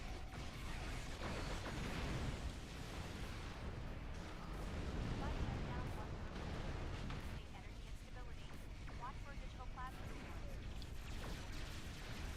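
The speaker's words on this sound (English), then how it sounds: "Whoop, and they're shooting at my aft." Enemy ships fire on a starship in Star Trek Online, producing a steady barrage of booming weapon blasts and mechanical rumbles layered with game effects, continuous and fairly dense.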